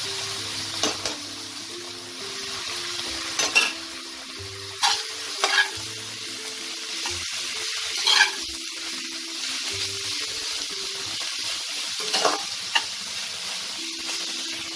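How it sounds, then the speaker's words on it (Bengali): Drained cabbage stir-fried in hot oil tempered with asafoetida, soft continuous sizzle broken by sharp spatula scrapes and clinks against the pan, with a low background hum. "এটাকে আমি কয়েক সেকেন্ড একটু নাড়াচাড়া করে নিয়ে জল ঝরিয়ে রাখা বাঁধাকপিটা দিয়ে দেবো"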